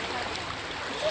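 A strong current of floodwater after heavy rain gives off a soft, steady rushing wash that is faint and distant, with no other clear sounds over it.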